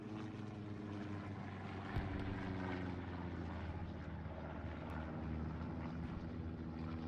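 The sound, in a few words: enemy recon plane flying overhead in a video game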